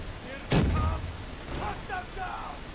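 A single loud gunshot in the Black Ops 3 video game, sharp and close, with a player talking over the game sounds around it.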